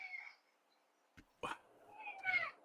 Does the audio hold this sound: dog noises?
yes